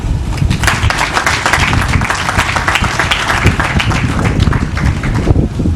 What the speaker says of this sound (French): que vous puissiez applaudir